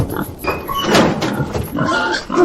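Pigs grunt and snort at close range inside a pig transport truck, in short irregular bursts with brief pauses between them.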